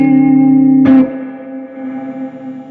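A Fender Super Sonic 22 amp at full gain with reverb around 5 holds a loud sustained guitar note, then a sharp pick attack cuts in and the sound rings on with a washy reverb tail.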